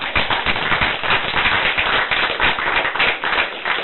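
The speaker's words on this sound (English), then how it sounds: "we can give him a round of applause for his thunder" Applause at a school district board meeting, a steady, dense round of clapping from a roomful of people, loud and continuous throughout.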